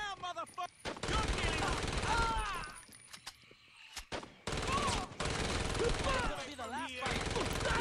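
Machine gun fire in Saints Row, with loud automatic bursts and rattling shots mixed with game sound and voices, a short lull near the middle before firing resumes.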